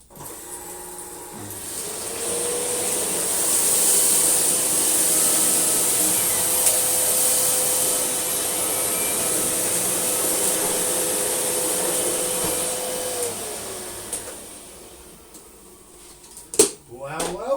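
Two vacuum cleaners, one a Dyson V11, drone steadily on carpet with a high motor whine for about twelve seconds, then power down, followed by a few bumps and clicks.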